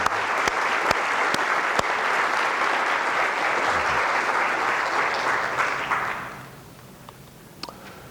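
An auditorium crowd at a university orientation week welcome applauds the staff, a dense, loud wash of clapping with a few sharp nearby claps that holds steady for about six seconds, then fades quickly into quiet room tone.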